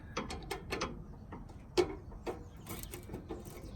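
Jubilee hose clip being loosened on a Lotus Evora engine, with quiet irregular metallic clicks and ratcheting taps of the tool, one sharper click standing out, heard close and fairly faint.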